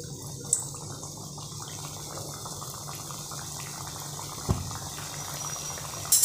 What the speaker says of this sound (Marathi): आपण आता पुऱ्या तळून घेऊयात। तेल गरम झालेलं आहे।